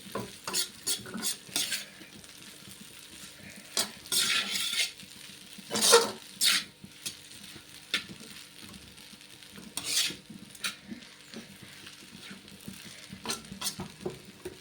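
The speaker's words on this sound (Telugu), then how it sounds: "ఇలా అడుగు నుంచి కలుపుకోవాలి" Egg noodles are stirred up from the bottom of a pan, with repeated scraping and clinking spoon strokes at an irregular rhythm over a faint sizzle and no voices.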